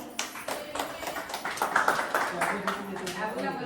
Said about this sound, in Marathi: टाळ्या होऊन जाऊ देत